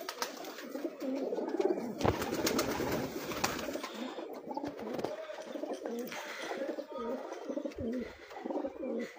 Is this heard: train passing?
no